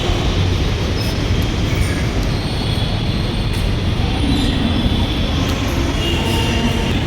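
Metro train running at speed, a loud steady rumble and roar of wheels on track with faint squeals, continuous throughout the ride.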